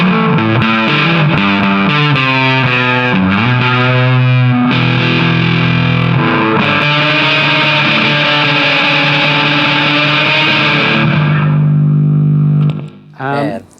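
Electric guitar played through an EHX Bass Big Muff Nano distortion pedal, thick fuzzy chords and sustained notes ringing loud and close, ending in a brief cutoff.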